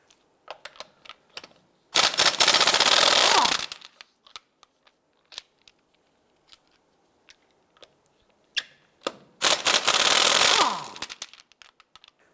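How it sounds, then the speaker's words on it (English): Custom locking lug nuts come off a 2011-2019 Ford Fiesta wheel with a power tool, two loud buzzing bursts of about two seconds each, separated by quieter clicks and handling noises. "Our particular wheel has custom lug nuts, so we're going to use our locking tool to remove these here."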